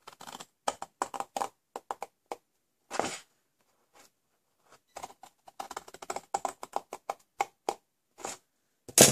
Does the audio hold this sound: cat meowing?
no